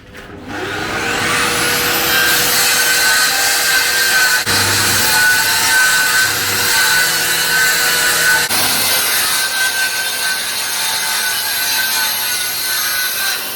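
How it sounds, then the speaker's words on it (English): A track saw whines loudly and steadily through wood panels during a narrowboat renovation, the motor spinning up at the start and holding a sustained high-pitched cutting drone close by, with no talk. "Andrew starts to make the cuts using his track saw"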